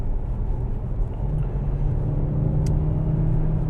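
A 2023 Nissan Juke Hybrid with a 1.6 engine drives along a scenic road, giving a low, steady boomy engine drone and road rumble inside the cabin, with no talking.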